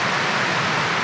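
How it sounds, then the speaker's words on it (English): Loud, steady rushing water beside a horse trail, a continuous broadband roar close by with no other sounds breaking through. "Water is quite noisy."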